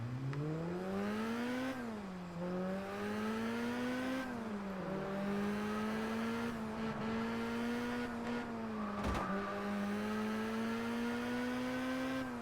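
A Lotus accelerating hard in the racing game Test Drive Unlimited Platinum: a loud, continuous engine tone climbs in pitch, drops briefly at each gear change, then keeps rising steadily, with no voices over it.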